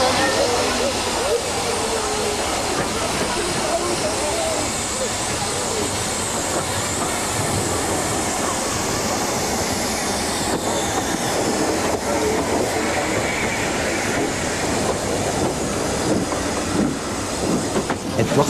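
Steam locomotive on a heritage railway departing a station toward Rothley: a continuous loud rumble and hiss of the moving train with rolling wheel noise and rail clatter, close by, throughout.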